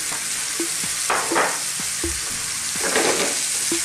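Chicken fries over medium heat in garlic and olive oil, a close, continuous crackling sizzle. Periodic bursts of louder spitting come with short knocks of a utensil stirring the pan.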